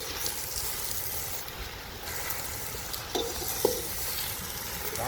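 Sour gongura greens saute in a hot pan with a constant sizzling hiss, joined by occasional clinks and scrapes as the leaves are stirred.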